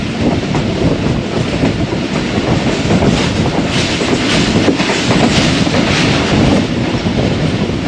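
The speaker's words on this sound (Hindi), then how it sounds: "सादकाबाद से ट्रेन थ्रू पास कर रही है" A Pakistani express train runs through a railway station early in the morning, with a loud, continuous rumble of rolling wagons and wheel noise that stays close and steady throughout, with no voices.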